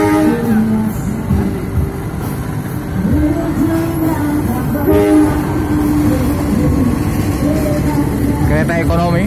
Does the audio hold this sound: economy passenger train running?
yes